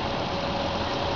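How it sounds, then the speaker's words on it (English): A Toyota Prius's combustion engine starting up and running, a steady low idle hum with a faint whine, heard from inside the car with no talk. "The combustion engine just kicked on"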